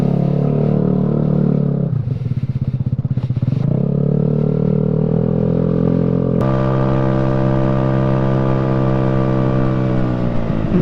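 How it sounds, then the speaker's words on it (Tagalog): A motorcycle engine runs loud and close, holding a rough, steady drone, then rising into a stronger revving tone partway through, with no talk over it. "Iingay na itong motor na to."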